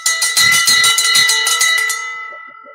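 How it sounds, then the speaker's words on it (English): A bright golden bell rings loudly several times in quick succession, its metallic tone sustaining and then fading over the last second, close and clear with no talk. "The golden bell."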